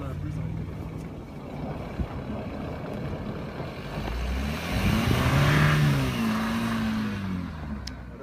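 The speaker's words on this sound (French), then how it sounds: "présentement en piste un des plus beaux sons de l'automobile actuellement. Yep. La RS5." An Audi RS5 revs and accelerates on a winter track, its engine note rising in pitch as it passes, moderately distant and mixed with wind and ambient noise.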